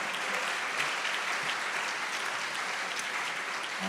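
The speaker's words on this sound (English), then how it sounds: "you need to clap for my man Charles" Audience at a public forum series clapping steadily, a dense wash of applause holding at an even level throughout.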